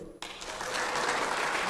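Church congregation bursts into applause for the Lord after a sermon line, the clapping starting suddenly after a brief pause and swelling into a full, steady round.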